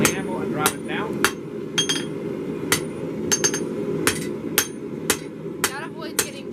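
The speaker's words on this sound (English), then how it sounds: "I'm going to lay it flat on the anvil and drive it down" A hammer strikes a flat piece of mono steel being forged on an anvil, about a dozen sharp ringing blows at an irregular pace, some in quick pairs, close and loud with a faint room hum between.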